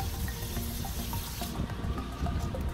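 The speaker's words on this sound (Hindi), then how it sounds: "अच्छे से पानी देंगे हम लोग" Water poured onto potted bonsai trees and cuttings, a soft continuous splashing and trickling at moderate distance with small droplet ticks, no voices.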